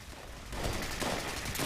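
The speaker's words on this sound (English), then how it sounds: "The gun just keeps going off?" Repeated gunfire from a weapon in Fallout 76, a dense broadband burst of shots that grows louder after the first half second and continues steadily, with no talk over it.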